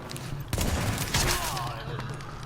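Marksman rifle fire in the video game The Division: two sharp, loud shots about half a second apart, each with a booming tail, set over a steady bed of game ambience.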